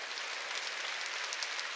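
A church congregation claps together during a Sunday worship service, a dense, steady wash of applause from many hands, brief and unbroken.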